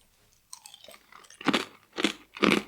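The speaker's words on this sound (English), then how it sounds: "let's try some of the rice crackers" Hard, crunchy rice crackers from a Polish Arpol Off-Road ration are chewed close to the mic, with a few light bites and then three loud, separate crunching bursts, with no talking.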